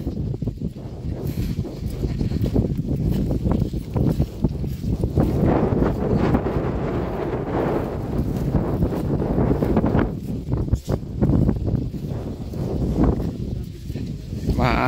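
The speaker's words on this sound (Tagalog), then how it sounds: "Mahangin." Wind gusts buffet the microphone outdoors on a farm lot, a continuous rumbling roar that swells and eases, with a voice speaking briefly over it.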